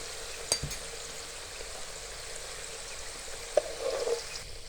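Mixed vegetable pakoras frying in hot oil, a faint steady sizzle with a couple of soft clinks.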